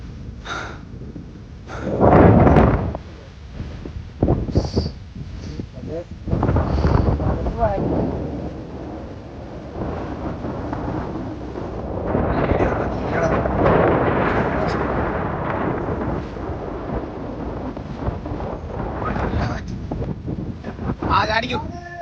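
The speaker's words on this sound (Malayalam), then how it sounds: "നല്ല കാറ്റുണ്ടല്ലേ." Strong wind gusts buffet the microphone on an open hilltop at Ilaveezhapoonchira, rumbling in loud, uneven surges across the whole stretch, with a voice talking under the roar.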